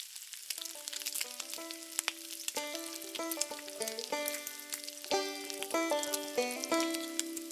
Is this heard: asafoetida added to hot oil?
yes